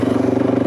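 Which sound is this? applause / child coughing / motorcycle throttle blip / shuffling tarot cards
motorcycle throttle blip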